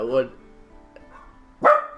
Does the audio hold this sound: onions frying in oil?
no